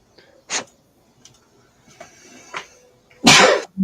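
One person sneezes sharply and loudly near the end after a few quiet sniffs and small throat sounds, with a brief voice just after.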